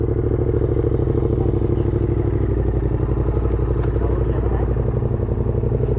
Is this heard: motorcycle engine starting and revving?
yes